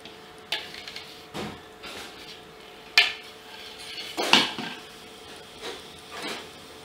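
Sellou (sfouf) ingredients being stirred together in a bowl, with soft scraping and scattered utensil knocks against the bowl's side at an irregular, unhurried pace, close and fairly quiet.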